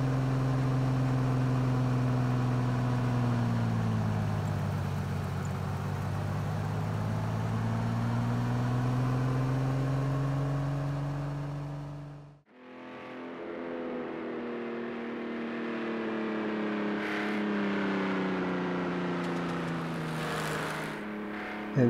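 A vintage two-seater car's engine drones steadily while driving in Project Cars 2, the pitch dipping briefly midway as the throttle lifts, then picking back up into a sustained run.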